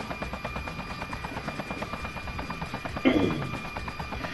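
Steady rotor chop of a helicopter in the game Just Cause, a continuous rhythmic thrum with a brief louder burst near the end.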